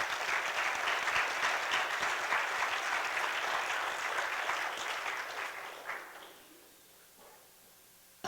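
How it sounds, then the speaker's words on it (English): A crowd at a Portland, Oregon gathering about Ferguson gives a loud, sustained round of applause that fades away over the last couple of seconds to near quiet, with a few scattered claps at the end. "you ought to give yourselves a round of applause"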